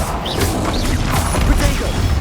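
Blasting-spell explosions and magical combat clashes in Hogwarts Legacy, a dense, loud run of crashes, whooshes and impacts overlapping one another for a couple of seconds amid game sound.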